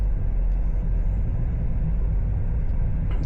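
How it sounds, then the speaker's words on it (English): Steady low rumble of late-night city traffic in Riyadh, heard from inside a moving car among other vehicles, a continuous dense drone without gaps. "See the traffic, the midnight traffic in Riyadh."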